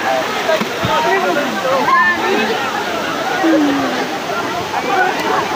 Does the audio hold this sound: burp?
no